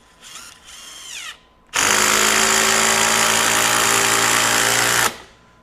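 A DeWalt DCF845 brushless impact driver sinks a 3-inch deck screw in one loud, continuous hammering burst of about three and a half seconds, after a shorter, quieter run-up.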